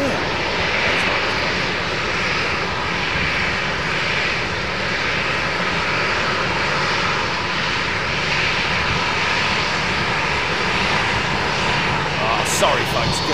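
A Boeing 747 jet airliner comes in to land at Amsterdam Schiphol, a steady broad engine roar filling the whole stretch, loud and continuous, with people talking faintly beneath it.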